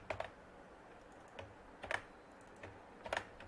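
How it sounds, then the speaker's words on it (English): Quick bursts of keystrokes on a computer keyboard while coding a Unity 2D game, clustered in three short flurries with quiet gaps, close and fairly soft, no talking. "I'm typing it quickly"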